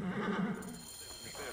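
A racehorse in Assassin's Creed Origins lets out a loud whinny at the start, followed by quieter movement sounds, while someone talks over it.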